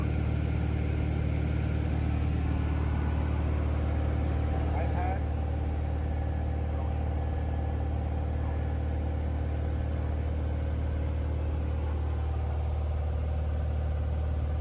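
A Cessna Skyhawk light aircraft's engine drones steadily in flight on a downwind leg for landing, a constant loud low rumble heard from inside the cabin, with radio talk over it.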